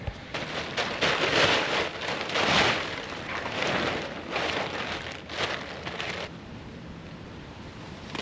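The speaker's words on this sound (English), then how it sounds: "Oh, it's starting to rain really hard now." Heavy rain falls steadily during a tropical storm on an island campsite, a dense close hiss of drops on surfaces that swells and eases in waves, with no voices.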